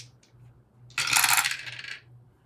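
Four dice rolled together in a board game, a bright clattering burst of plastic knocking and rattling that lasts about a second, preceded by a couple of faint ticks, with quiet hum underneath.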